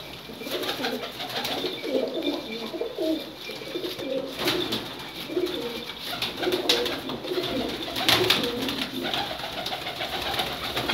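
Teddy pigeons cooing close by in soft, rolling, repeated calls, with some light rustling and background noise.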